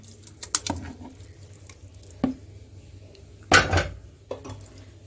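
A ladle knocks and scrapes against a pot while boiled wheat, barley and lentils are stirred together over high heat for chicken haleem, giving a few scattered clatters and one louder scrape with quiet gaps between.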